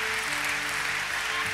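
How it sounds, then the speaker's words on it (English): A church congregation claps for parents at a child dedication service, a short, steady wash of applause heard from within the room, with a low musical hum underneath. "Will you give us a round of applause for our parents today?"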